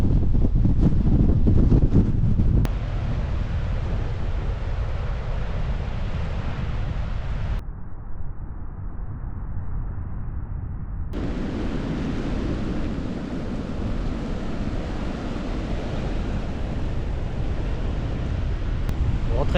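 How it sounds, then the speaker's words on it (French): Strong gusting wind near a beach on a hike, a loud continuous roar buffeting the microphone, steady and close throughout with a brief dip partway through. "gros vent qui arrive"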